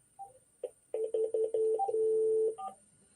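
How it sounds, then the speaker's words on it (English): Telephone dialing tones sound while a call is placed to another number: a quick run of short, evenly spaced keypad beeps followed by one longer steady tone, close and clear, with no talking. "I'm calling another number."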